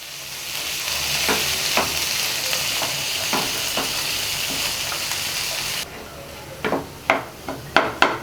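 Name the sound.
mixing pea and vegetable stuffing with masala in a pan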